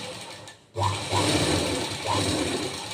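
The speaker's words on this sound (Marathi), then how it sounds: "पूर्ण अस्तर जोडून घ्यायचं आणि नंतर दाब शिलाई करून घ्यायची" A sewing machine stitches the lining of a boat-neck blouse, starting abruptly after a short pause and running in close, steady rattling bursts with slight rhythmic surges and no speech.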